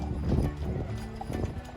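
Horse hooves clip-clop steadily on pavement as a horse pulls a buggy through Jackson, Wyoming, the rhythmic beats close and fairly loud with soft background noise.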